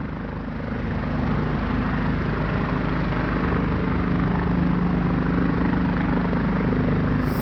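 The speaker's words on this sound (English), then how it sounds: "Here come another damn helicopter, bruh." A loud helicopter drones continuously close overhead, its rotor thumping steadily throughout.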